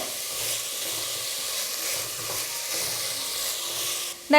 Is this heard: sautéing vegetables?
yes